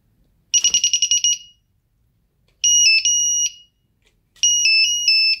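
A New Direction Tackle fishing bite alarm sounds alone and loud: first a quick run of rapid beeps, then two longer sustained tones, each switching between two different pitches, separated by silence.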